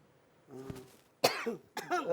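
A person coughs a few times close by, short harsh bursts with a throaty edge, separated by brief pauses in a quiet room.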